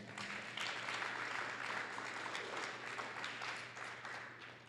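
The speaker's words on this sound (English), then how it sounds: "Give them a round of applause" Applause at a press conference for a public youth event: a steady wash of clapping from a gathered crowd at a moderate distance, fading slightly toward the end.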